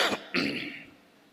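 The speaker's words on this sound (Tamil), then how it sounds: "நான் அப்பப்போ இருமுவேன்" A man clears his throat and then gives a cough, two close, loud bursts with a tapering tail, during a Tamil night prayer sermon.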